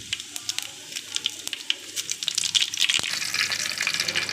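Cumin and mustard seeds crackle and sizzle in a little hot oil, with faint scattered pops at first that build into a denser, louder frying hiss.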